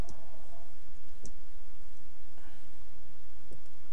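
Computer keyboard keys clicking as an application name is typed, a handful of sparse, light taps spread over a few seconds against a faint background hiss.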